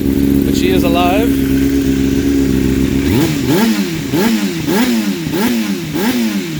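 A 2003 Yamaha R6 motorcycle engine idles steadily, then revs up repeatedly in quick rising and falling bursts, loud and close, with a voice heard briefly over it.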